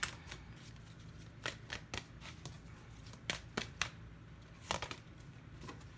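Tarot cards shuffled by hand in quiet, faint crisp riffles and slaps coming in short irregular bursts over a low steady hum.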